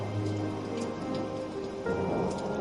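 Steady rain falls at a roadside tea stall, a continuous dense hiss that stays even and fairly loud throughout, with no voices.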